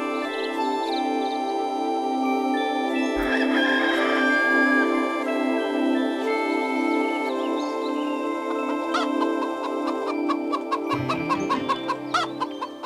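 A cartoon hen clucks and crows in a children's animated story, with bright, repeated bird calls over a continuous musical backing that lasts the whole stretch.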